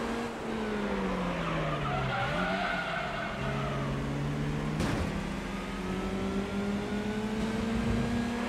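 A race car drifts in Gran Turismo 3 on the PS2, its engine droning and shifting pitch while tires squeal and skid in a long, continuous slide, loud and steady throughout.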